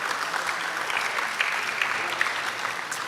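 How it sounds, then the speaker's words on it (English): An audience at an internet governance forum in Trinidad and Tobago breaks into steady applause that continues evenly for a few seconds, heard at moderate distance without voices. "Round of applause."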